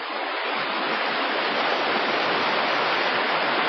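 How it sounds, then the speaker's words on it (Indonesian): The Sigura-gura waterfall on the Asahan river roars with a dense, continuous rush of falling water, loud and steady from start to finish with no voices. "Deburan air terjun mulai mereda"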